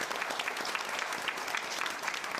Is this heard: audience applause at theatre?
yes